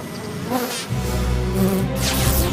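Steady bee buzzing in a cartoon fills the clip, a dense droning hum that swells slightly in the second half, close and continuous with no talking.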